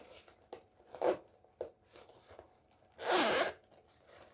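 A zipper pulls open on a new bag unpacked from a Temu parcel. A few short rasps come first, then one longer, louder zip, all close by.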